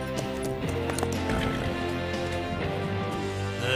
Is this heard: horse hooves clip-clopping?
yes